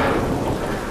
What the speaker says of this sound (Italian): Ma poi c'è un rumore di pioggia se faccio così?